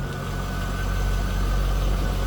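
A 2003 Chevrolet Corvette 50th Anniversary coupe idles steadily, heard from behind the car as a continuous low engine rumble that stays even and moderately loud throughout.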